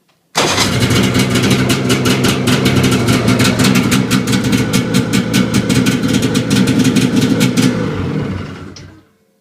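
A snowmobile engine fires on a single crank and settles straight into a steady, loud, close-up rumbling idle, running evenly for several seconds before cutting off abruptly.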